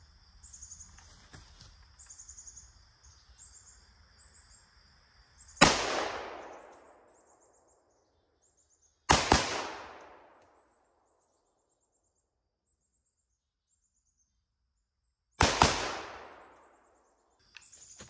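Three loud, sharp rifle shots from a Century C39 V2 American-made AK-47 firing 7.62x39 rounds outdoors on a ranch, each crack trailing off in a long echo, spaced several seconds apart after a stretch of faint insect and bird ambience.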